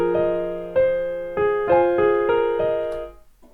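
A dry piano loop plays without reverb or delay, a short sequence of about seven evenly spaced, ringing chords, close and clear, ending in a small thump.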